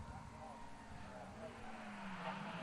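An Alfa Romeo 164 race car in the Alfa Romeo Championship at a circuit, its engine droning steadily as it drives past, with faint tyre noise and commentary beneath.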